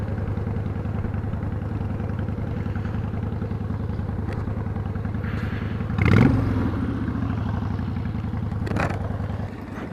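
A Honda Shadow 1100 motorcycle idles close by with a steady low rumble across the whole stretch, and a brief clattering scrape rises over it partway through.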